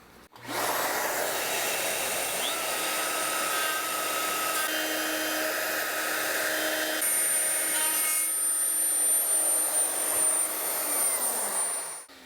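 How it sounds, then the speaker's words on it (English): A router with a bit cleaning up a guitar neck pocket after Forstner drilling runs as a loud, steady high-pitched whine for about twelve seconds, with no talking over it. "I know that the router bit can clean up the points from the Forstner bit"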